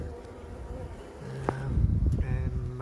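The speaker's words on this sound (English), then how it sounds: "Most of the bees look like they're going into the box." Honey bees buzzing near a hive being relocated from a chimney into a box, a soft droning hum outdoors under wind with a few brief closer buzzes.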